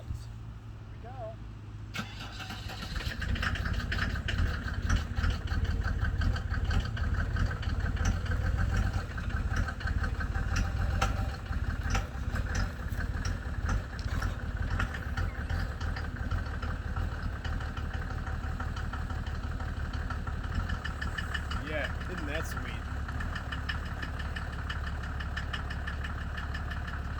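A 1987 Mercedes W124 turbo diesel idles steadily after a cold start, glow plugs having warmed, the engine settling into a loud, continuous clattering rumble that runs unbroken while someone talks over it.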